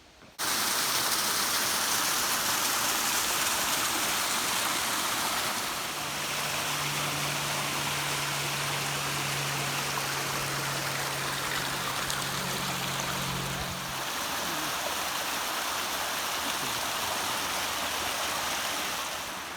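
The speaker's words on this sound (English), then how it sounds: "That's the waterfall" A waterfall beside a hiking trail on Mount Washington roars as a steady, dense wash of rushing water filling the whole clip, with a low hum briefly layered in partway through.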